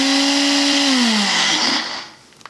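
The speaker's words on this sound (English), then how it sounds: "Then I'm going to put it back onto the blender to blend again." A blender blending fruit for a thick smoothie bowl whirs loudly at high speed, its motor pitch dropping as it winds down and stops, followed by a few faint clatters.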